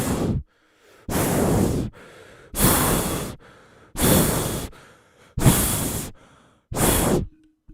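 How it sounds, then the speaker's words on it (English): Heavy, close breathing from a Spurs fan straight into a microphone: six long, loud, gusty breaths in a steady rhythm, each about a second long, with quiet gaps between them. "anyone else can hear the fucking Spurs fan breathing into the mic"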